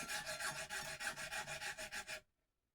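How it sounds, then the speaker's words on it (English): Steady rhythmic rasping of a file working the nut slots of a Les Paul Jr guitar, about a dozen quick even strokes close up, then stopping abruptly into silence. "So what we're doing is we're filing them down"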